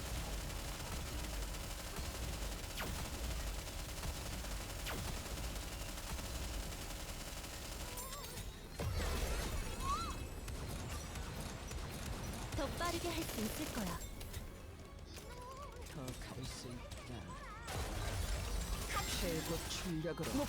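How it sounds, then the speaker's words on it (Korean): Volley fire in the shooter game NIKKE: dense, continuous bursts of gunfire with sharp cracks and clatter, shifting in intensity, while a voice talks over the action. "일제 사격"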